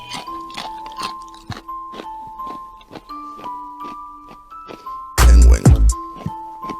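Crunchy food is chewed close to the mic in a run of crisp, irregular crunches. One loud, sharp burst of crunching comes near the middle, and a faint ringing tone sits underneath.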